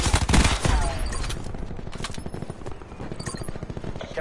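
Rapid automatic gunfire from a sensor gun in a PS4 video game, a steady rattling burst of shots running throughout at close range, with busy game effects mixed in.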